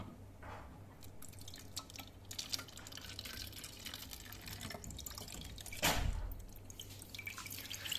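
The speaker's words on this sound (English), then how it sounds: "Now again I'll pour water in this." Water is poured into a plastic bottle with three drilled holes at different heights and streams out through them, giving quiet, steady trickling and dripping with a brief louder splash near the end.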